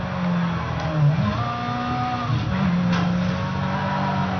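A car engine in the racing video game Midnight Club LA drones loudly in third gear at over 70 mph, its tone holding steady and rising slightly as it accelerates, with a brief dip near the middle.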